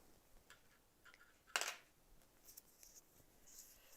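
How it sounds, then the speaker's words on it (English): Scissors snip once through the printed text on an iron-on transfer sheet, a short crisp cut standing out in an otherwise quiet room. "I want to cut off the Iron Me text right there"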